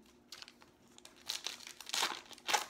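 Crinkly foil wrapper of a 2017 Topps Fire baseball card pack torn open, close and quiet, a few short crackling rips growing louder toward the end.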